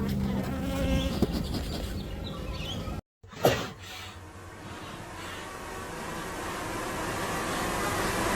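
Honey bees swarming around an olive-coloured hive being opened for a winter inspection, a dense continuous buzz close to the mic with one short dropout and a brief clunk of hive parts.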